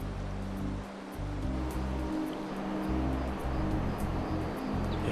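A river in Serengeti National Park flows with a steady, full rushing roar, loud and continuous with a deep low rumble, and no voices over it.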